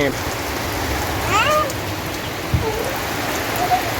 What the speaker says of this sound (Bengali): এই যদি হয় বৃষ্টির অবস্থা